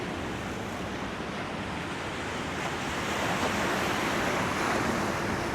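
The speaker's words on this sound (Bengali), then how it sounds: "আর বিশাল জোরে জোরে ঢেউ দিচ্ছে।" Strong sea waves break near a railway line at Hikkaduwa, Sri Lanka, a continuous loud roar of surf with wind noise buffeting the microphone, no voices.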